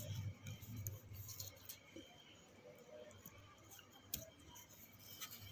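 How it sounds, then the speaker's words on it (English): Scissors snip through a ribbon in a few faint, quiet cuts and clicks against a low, steady room background. "Then we will cut our ribbon from here with the help of scissor."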